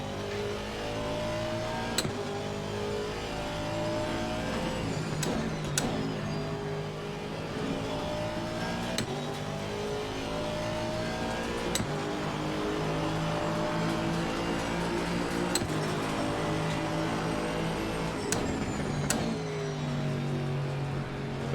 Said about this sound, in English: Love the sound of this Aston Martin.